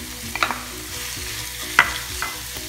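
Crushed beef tossed into a pan of softened aromatics for a wheat-flour samosa filling fries with a steady low sizzle, broken by a few sharp clinks and scrapes of a utensil stirring.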